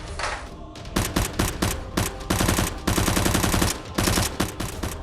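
Gunfire sound effects in a Nerf action battle come as loud, rapid automatic bursts, several volleys of sharp shots separated by brief gaps.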